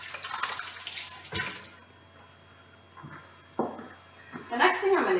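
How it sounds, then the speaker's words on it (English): Hands are rinsed under a running kitchen tap while cooking shrimp, and the water hisses steadily and close by. It rises again near the end with some splashing, under a quiet background hum. "So, now I'm going to wash my hands."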